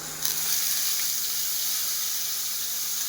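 Ground spice paste, with turmeric added, hits hot oil in a pan for a fish and cauliflower dish, giving a sudden strong sizzle that settles into a steady, bright hiss lasting several seconds.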